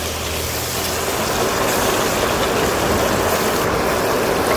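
Potatoes seasoned with salt and turmeric sizzle and fry in a clay pot while being stirred, a loud, continuous hissing sizzle that runs steadily throughout with no talking.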